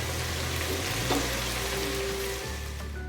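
Whole spices frying in a pan for chana pulao give a steady, even sizzle with no talk over it, and a light stir or tap of the pan comes partway through.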